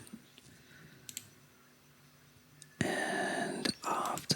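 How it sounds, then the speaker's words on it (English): A microphone is scratched in a quiet ASMR setting. A few faint ticks come first, then close, loud bursts of rough friction noise with short gaps between them. No voice is heard. "I'll do some mic scratching for a little bit."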